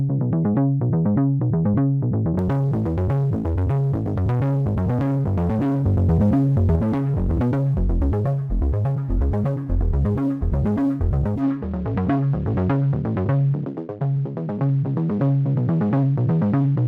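A steady, punchy electronic bass line run through an Arturia tape effect, a continuous rhythmic pattern of repeated low notes playing alone at full level throughout.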